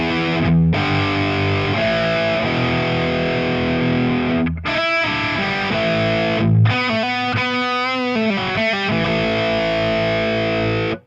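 Electric guitar through a Diezel mini amp head set to moderate gain, giving a crunchy distorted tone in loud sustained chords and riffs with brief pauses, played alone.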